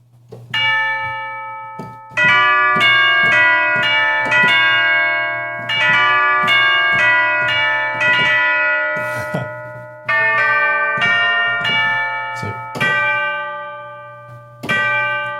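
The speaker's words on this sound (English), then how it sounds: "Tubular bells." Tubular bells from an orchestral synthesizer preset ring out a slow melody, each strike clear and resonant, notes overlapping and decaying, with a steady low hum underneath.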